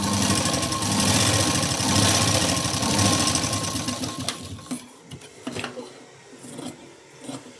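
A sewing machine stitches a tuck on a katori blouse, running loud and steady for about four seconds before dropping to quieter, intermittent bursts of stitching.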